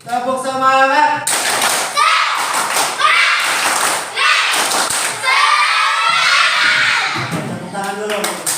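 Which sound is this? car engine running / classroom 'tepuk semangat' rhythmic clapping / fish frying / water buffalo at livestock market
classroom 'tepuk semangat' rhythmic clapping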